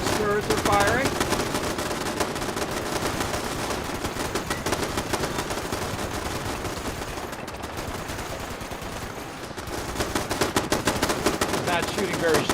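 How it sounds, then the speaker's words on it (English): Turrets firing in Fallout 76, a dense, continuous rattle of rapid automatic gunfire that runs nonstop at steady loudness, sounding fairly near with a busy clatter of overlapping shots. "I can also see where his turrets are firing."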